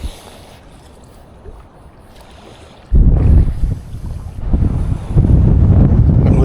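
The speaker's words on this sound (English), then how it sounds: "this is really windy" Strong wind buffets the microphone on a shore while land-based lure fishing, in heavy low rumbling gusts, moderate at first, then sharply louder and sustained.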